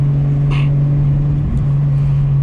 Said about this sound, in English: You would just think it has a loud exhaust.